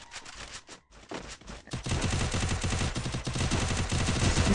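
Sustained rapid gunfire from a shooter video game, dense bursts of automatic fire that start sparse and quickly become a continuous loud volley with no talk.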